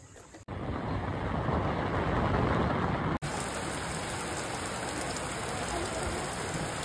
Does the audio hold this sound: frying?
no